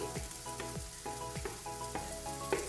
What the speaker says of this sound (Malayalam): ഇത് നന്നായി ഒന്നുകൂടി ഒന്ന് വഴറ്റിയെടുക്കാം.